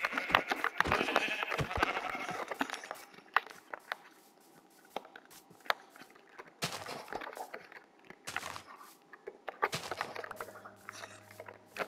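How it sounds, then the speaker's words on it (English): Sheep bleating in the Minecraft video game, short blocky bleats scattered among thuds and footstep clicks, moderately loud and intermittent over quiet gaps. "But I did see these sheep."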